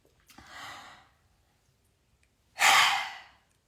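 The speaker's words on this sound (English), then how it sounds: "exhale forcefully, deeply through the mouth and pull the belly button in" Forceful Kundalini yoga breathing through the mouth, two deep, breathy exhalations a couple of seconds apart, the second louder and sharper, heard close with no speech.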